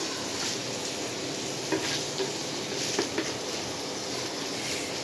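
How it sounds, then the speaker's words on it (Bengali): Pointed gourd (potol) frying in a pan beside a pot of country chicken, with a dense, steady hiss of hot oil and a few faint utensil taps. "পাশে পটল ভাজা।"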